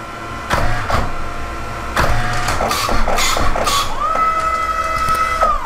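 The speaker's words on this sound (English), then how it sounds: "And printing, and that's a manual photo booth with Darkroom Core." A photo booth printer runs through a print job: mechanical whirs and clunks start and stop, then a sustained motor tone carries on toward the end, close and fairly loud, with no voices.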